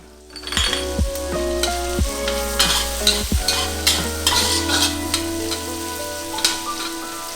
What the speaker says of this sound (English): Lastly, put some minced garlic and cook it for around 30 seconds also.